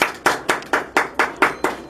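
A group claps hands in a steady, even rhythm, eight sharp claps about a quarter second apart, close and fairly loud, with no talking.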